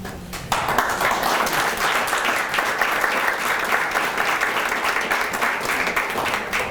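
Steady, full applause from an audience at a valedictorian and salutatorian breakfast honoring top students, starting abruptly and continuing evenly and close throughout.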